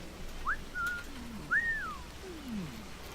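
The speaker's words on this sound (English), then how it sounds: "And repeatedly spamming the whistle key does not work." A character whistling in the Assassin's Creed IV Black Flag video game: several short, bird-like whistled notes, including rising and falling glides, heard clearly over a quiet ambient background.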